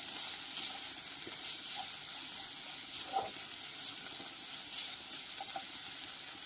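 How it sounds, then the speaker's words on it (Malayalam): Coriander and spice powders roasting in a pan for a Kerala theeyal, stirred now and then: a quiet, continuous sizzle with faint scraping and small clinks of the spoon, no speech. "ഈ പൊടികളൊന്ന് പച്ചമണം മാറും വരെ ഒന്ന് ഇളക്കി കൊടുക്കാം."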